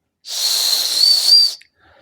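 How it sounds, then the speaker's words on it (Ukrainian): The small whistle built into a Roxon Spark multitool is blown once, a steady, shrill, breathy tone lasting over a second, loud and close, with nothing else around it. "Тут є ще свисток."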